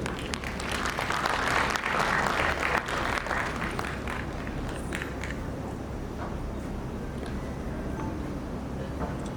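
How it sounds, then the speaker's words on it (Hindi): Audience applause welcoming cadets at a Sainik School Gorakhpur annual function, a broad crowd clapping that swells early then settles into steady, slightly thinner clapping, with sharp individual claps standing out. "तो जोरदार तालियों से स्वागत कीजिए हमारे कैडेट्स का"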